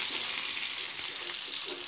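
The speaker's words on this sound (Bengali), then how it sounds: "মাছ ভাজা হয়ে গেছে, নামিয়ে নেব, বাকিগুলো একইভাবে ভেজে নেব।" Fish fries in hot oil with a continuous, even hiss and sizzle, heard alone without voices.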